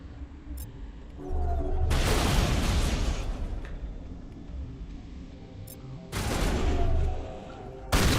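Gunfire from a firefight in the video game Mass Effect, set in a Noveria lab, crackles in two loud dense bursts of rapid shots, separated by a quieter stretch of game ambience.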